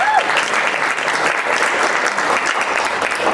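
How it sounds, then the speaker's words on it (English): Steady, full round of applause from a concert audience after a tuba player's performance, a dense continuous wash of clapping throughout. "Let's give him a round of applause."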